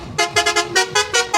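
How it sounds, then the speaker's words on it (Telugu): Vehicle horns honk repeatedly near the Om Banna bullet motorcycle temple on a roadside, several short bright toots in quick irregular succession, loud and close with no talk. "3 సార్లు హార్న్ అయితే కొట్టడం జరుగుతుందండి ఈ టెంపుల్ దగ్గరికి వచ్చిన వాళ్ళు."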